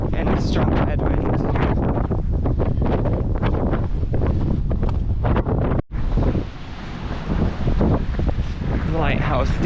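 A strong headwind buffets a walker's microphone on an exposed coastal path by a lighthouse, a loud continuous roar with gusty surges and one brief dropout midway.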